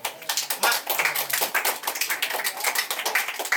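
Children clap their hands at a Republic Day cake-cutting celebration with orphaned children, a dense, fast and loud patter of overlapping claps that runs steadily throughout.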